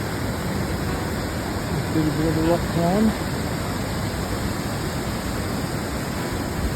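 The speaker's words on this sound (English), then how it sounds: "Check out the waterfalls." Waterfalls along the Milford Track in New Zealand's rainforest keep up a steady, broadband roar of rushing water throughout, with someone speaking briefly over it partway through.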